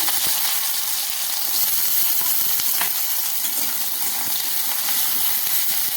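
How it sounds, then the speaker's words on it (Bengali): Bitter gourd fries in a pan of hot oil, giving a continuous close sizzle with small crackles and pops that stays even throughout. "উচ্ছেটা ভেজে নেব।"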